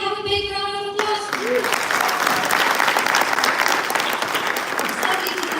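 Dense, steady clapping from a conference hall audience at the Erasmus Mundus Association annual general assembly, starting after a moment of music-like tones and continuing at full strength to the end.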